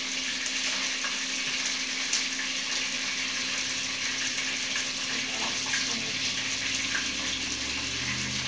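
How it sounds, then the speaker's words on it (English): Beef browning in a hot pan sizzles and crackles continuously, a steady hiss with scattered pops heard up close, with no talking over it. "Beef sizzling sound."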